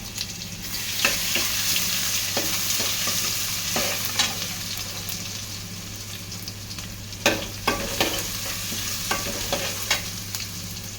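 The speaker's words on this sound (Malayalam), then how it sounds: "ഒന്ന് ഇളക്കി കൊടുക്കാം കേട്ടോ" Steady sizzle of crushed ginger and garlic frying in a hot pan, with repeated scraping and clinking of a spoon stirring, close up and without any talking.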